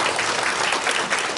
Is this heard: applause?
yes